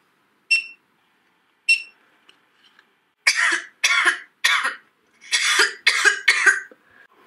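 A girl coughs in an animation: two short isolated coughs, then a rapid cluster of six or seven louder, harsh coughs in a row, close and clear against silence.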